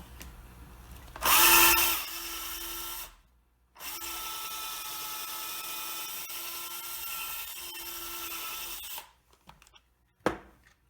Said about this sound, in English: Pre-drill a hole.